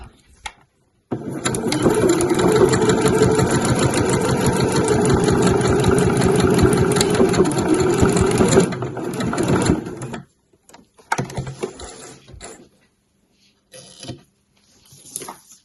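A sewing machine stitches a mesh laundry bag in a steady, loud, continuous run of about nine seconds, then stops, followed by a few shorter bursts of handling noise and brief pauses.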